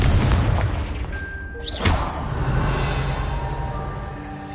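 A Confringo fire spell explosion in the video game Hogwarts Legacy lands as a deep boom with a whooshing burst, followed by a rumbling, fading tail.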